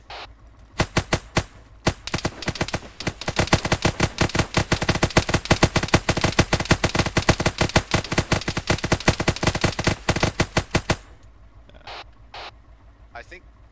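Rapid automatic gunfire in the Arma 3 military shooter, a long dense burst of loud, closely spaced shots running for around ten seconds, then a few scattered single shots.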